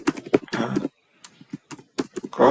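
A computer keyboard is typed on in quick, close clusters of clicks, with a short quiet gap in the middle before the keystrokes resume.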